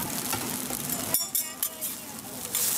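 Oyster omelette cooking at a Taiwanese street stall, batter and egg sizzling on a hot griddle with scraping and stirring of a metal spatula, close and continuous.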